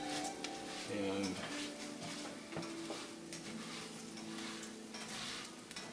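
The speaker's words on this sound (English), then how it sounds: "This rice for about 2 or 3 minutes until it starts stirring this around and browning it here." Long grain white rice browning in vegetable oil while being stirred in a pan for Mexican cooking: a soft continuous sizzle with scraping stir strokes, quiet and close, with people talking over it.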